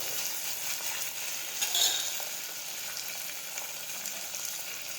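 Cluster beans and potatoes sautéing in a pan, giving a continuous bright sizzle with occasional scrapes and clinks of stirring.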